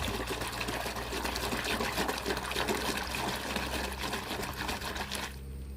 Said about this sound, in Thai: เทผงซักฟอกลงไปรวมกับน้ำ แล้วตีให้เกิดฟอง